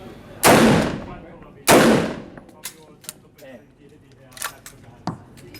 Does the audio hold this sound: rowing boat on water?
no